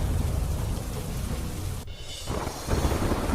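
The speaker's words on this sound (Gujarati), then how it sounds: "રાજસ્થાનના કરોલીમાં ધોધમાર વરસાદ." Heavy rain pouring down in Karauli, Rajasthan, a dense, loud hiss of water that breaks off abruptly for a moment before the downpour resumes.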